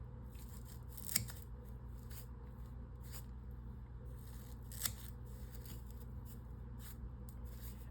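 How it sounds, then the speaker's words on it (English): Scissors snip fly-tying material flat while tying an 8/0 monster rat fly, a few faint, sharp cuts scattered over a quiet, hissy background. "So we're just gonna take our scissors."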